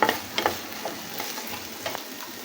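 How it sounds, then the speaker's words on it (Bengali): Onion stalks fry in a pan for a bhorta, with a low, continuous sizzle broken by several quick scraping stirs close at hand. "পেঁয়াজের গালিগুলো ভাজছি,"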